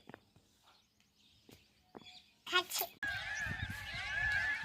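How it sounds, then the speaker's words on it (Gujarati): Loud, harsh peacock calls ring out repeatedly in the morning after some quiet rustling, over a steady chorus of other birds in the background. "સવારમાં મોર કેવા બોલે"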